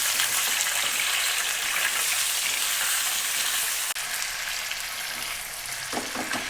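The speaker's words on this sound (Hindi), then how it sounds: "अब हम इसमें चिकन डालेंगे क्योंकि हमें जो है चिकन को फ्राई करना है" Chicken pieces sizzle steadily in hot oil for Afghani karahi, a loud, dense, continuous frying hiss with a brief dip near the end and no talk.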